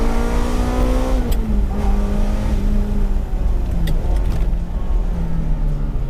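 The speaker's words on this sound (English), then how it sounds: "I love also the way the engine builds up the power" Ferrari engine revving loudly and continuously, its pitch climbing steadily as it builds power, with brief easing between pulls and a dense roar throughout, no voices.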